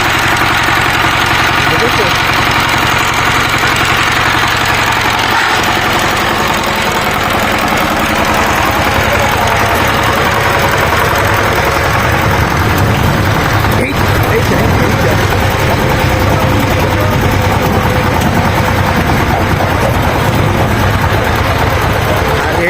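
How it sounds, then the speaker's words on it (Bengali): A power tiller's engine chugs loudly, steadily and close, a rough, continuous mechanical drone with vibration that never lets up. "এই নয়নদের পাওয়ার টিলার নিয়ে এসে কিন্তু আমাদের সেই পাওয়ার টিলার আনতে যাওয়া হচ্ছে"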